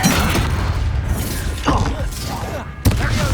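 Confringo spell blasts in Hogwarts Legacy, with loud booming impacts and crashing debris over dense game noise, with a voice calling out briefly.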